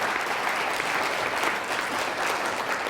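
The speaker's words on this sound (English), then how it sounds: "let's give them a round of applause" Sustained audience applause at an orthodontist study group gathering, a dense, even wash of many hands clapping continuously without pause.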